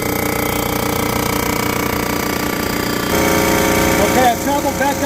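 A cylinder boring bar cutting a cylinder of a Pontiac 400 engine block, a loud continuous machine whine and chatter with steady tonal hum, growing harsher and more rattly toward the end.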